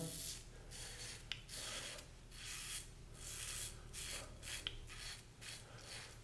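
A safety razor shaves a sideburn over shaving cream, giving a quiet, close, rhythmic series of scratchy rasping strokes with brief pauses between them.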